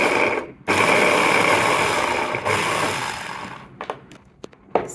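A Fumato chopper blender runs on its speed setting with a high-pitched whirring motor, running steadily for nearly two seconds after a brief start, then dropping into a few short pulses and clicks.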